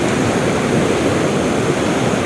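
Ocean waves crash against rocks at a fishing spot along the shore, making a loud, continuous roar of surf and churning water that fills the whole moment without a break.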